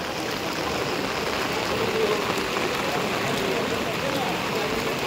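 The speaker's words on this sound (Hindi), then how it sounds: "बारिश छूटने का नाम नहीं ले रहा है।" Heavy rain falling at a temple in Deoghar during Sawan under dark clouds: a dense, steady hiss of drops with no break, even and moderately loud throughout.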